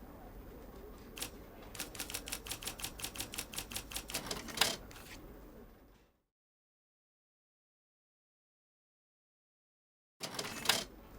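Typewriter-style keystrokes for writing an article in a mobile story game come in a quick, even run of clacks ending in a louder strike. A few seconds of silence follow, then a short new burst of typing.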